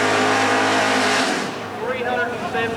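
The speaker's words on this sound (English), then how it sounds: "377 cubic inch Ford motor in that Mustang." A Ford Mustang drag racing car with a 377 cubic inch Ford motor at a dragway, a loud steady engine roar that drops off as the car pulls away, with an announcer talking over it.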